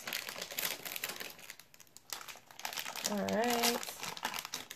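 Blind bag packaging being cut open with scissors during a DC blind bag unboxing, crinkly plastic rustling and snipping close by, with a voice speaking briefly over the crinkling.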